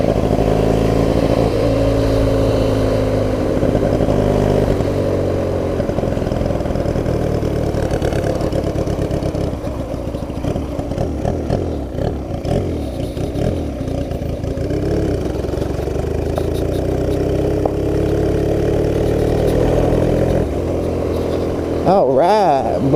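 A Honda Rebel motorcycle converted into a dirt bike runs steadily in fifth gear, a loud mid-pitched engine drone rolling down a hill, with wind noise and people talking over it.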